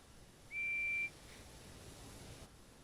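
A guard's whistle in a Thomas & Friends railway video game gives one clear, steady high blast of about half a second, then fades into a quiet, hissy background.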